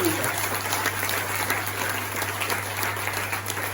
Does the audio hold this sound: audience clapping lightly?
yes